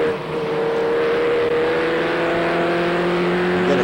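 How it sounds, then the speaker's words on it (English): Race trucks running at Seekonk Speedway, a continuous loud engine drone with a steady pitch from vehicles circling the oval, holding steady throughout with a slight swell near the end. "We got a good view of the cars running up in front."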